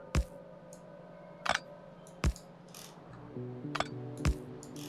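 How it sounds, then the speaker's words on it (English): Sharp, crisp clicks sound as pumps are removed in the video game Factorio. About six clicks come at irregular intervals, some in quick pairs, over a steady low in-game hum. "I can definitely hear it clicking twice every time one of these gets removed"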